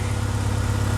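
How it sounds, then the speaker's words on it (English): A warming-up Acura Integra engine idles steadily at close range, a continuous low, even rumble with no talking over it. "So right now I'm just letting the engine warm up"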